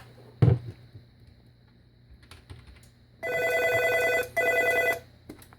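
A Nortel Norstar office phone rings with an inbound call, two long electronic trills close by, preceded by a single knock and some faint keyboard clicks.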